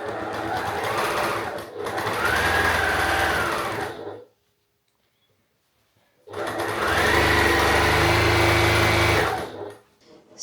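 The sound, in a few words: sewing machine quilting denim fabric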